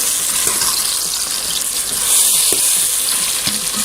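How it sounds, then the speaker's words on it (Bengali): Chicken and mushrooms fry in butter with a pinch of salt, giving a loud, close, steady hiss with a few small pops and crackles throughout. "আমি চিকেন আর মাশরুমটা খুব ভালো মতো ভেজে নিচ্ছি।"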